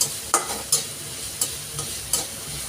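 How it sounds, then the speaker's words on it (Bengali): Chopped onion and coriander leaves fry over lowered heat in a pan for a bhorta, a soft steady sizzle broken by several sharp scrapes of a spoon stirring, with no talk. "পেঁয়াজ কুচি আর ধনিয়া পাতাটা এখন ভেজে নিচ্ছি।"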